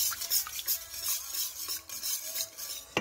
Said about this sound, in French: Je tourne comme ça.